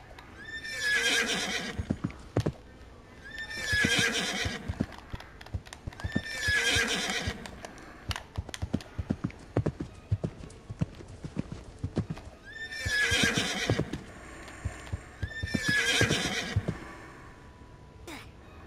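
Horses in a Roblox ghost town game, with five loud, long neighs spaced a few seconds apart over steady, rapid clip-clopping hooves throughout.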